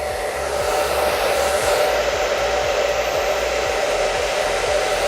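A hair dryer blows steadily while curls are set, a loud continuous roaring whoosh with a high whine, running close and unbroken throughout.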